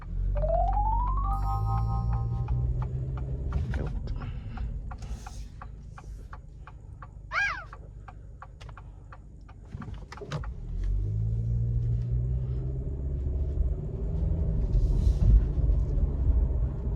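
A 2023 Acura Integra with a CVT cruises through neighborhood roads, its low engine and road rumble steady from inside the cabin, with rising whine tones near the start and scattered clicks and ticks throughout.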